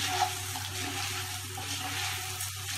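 Puffed rice is stirred with red chili powder and spices in a pan over a low flame, a continuous dry rustling sizzle with faint scraping, steady and close, without talking.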